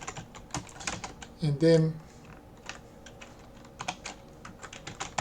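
Quick, light keystrokes tap on a computer keyboard while entering commands in a Linux terminal, an irregular close-up clatter with a short spoken phrase partway through.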